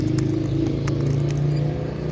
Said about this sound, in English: Noisy cars and bikes.